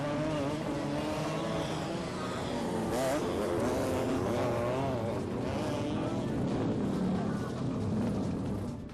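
Dirt bikes and dirt cars racing at a state-level championship event in Sankinahalli, engines whining and revving continuously, loud and close, with crowd noise underneath.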